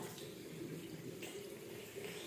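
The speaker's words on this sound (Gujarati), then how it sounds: "બંધ કરી દે હાલ, હવે ધોવાઈ ગયા હાથ" Tap water runs into a sink while hands are washed, a faint, steady hiss of flowing water that holds at the same level without a break.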